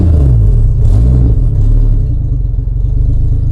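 A BMW E36 with a swapped-in Toyota 1JZ engine idles low and rough, a loud close-up rumble with a pulsing, slightly uneven beat and a brief rise in revs near the start.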